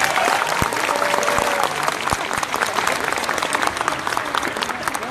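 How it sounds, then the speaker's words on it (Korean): A large outdoor street crowd at a public assembly in Seomyeon, Busan claps warmly for the Sewol ferry families, the dense applause broken by a few sharp louder claps and scattered voices. "다시 한번 박수를 부탁드리겠습니다."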